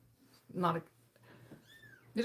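Kittens meow in short, loud bursts close by, with a few fainter mews in between, while a person talks quietly over a low background hum.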